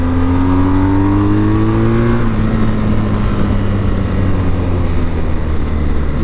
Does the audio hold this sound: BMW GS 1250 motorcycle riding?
yes